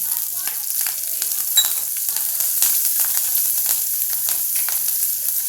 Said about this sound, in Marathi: याच्यामध्ये आपण हा कढीपत्ता टाकतो आहे हिंग टाकला आणि हिरव्या मिरच्या